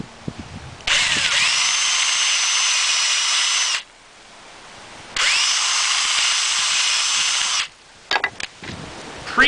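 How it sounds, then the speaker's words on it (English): Power drill boring into a wooden handle for a do-nothing boredom grinder build, two steady whining bursts of a few seconds each with a short pause between, close and loud, then a few light knocks. "Quick drill on the handle."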